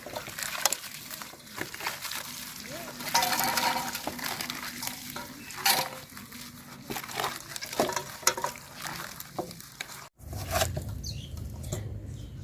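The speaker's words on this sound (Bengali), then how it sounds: "এখন পেঁপে পাতা দিয়ে এগুলারে মানে উপরের যে ময়লাটা এটা তুলবো।" Small native shing catfish are scrubbed by hand with papaya leaves in a home kitchen, a close, irregular run of wet rubbing, squelching and rustling strokes that stops abruptly near the end.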